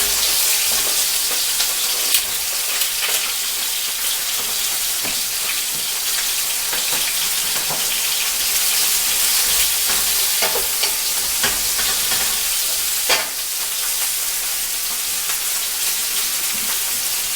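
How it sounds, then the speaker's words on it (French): Onions frying in a pan for paella: a loud, unbroken crackling sizzle with scattered clicks and scrapes from stirring, no voices. "Et là on fait revenir les oignons."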